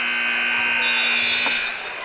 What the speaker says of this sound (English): So with the final buzzer